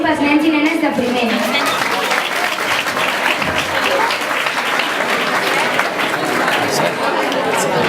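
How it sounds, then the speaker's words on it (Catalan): First-grade children and their audience break into loud, sustained applause at a Christmas carol performance, dense clapping close by with chatter and voices mixed throughout. "Un fort aplaudiment pels nens i nenes de primer."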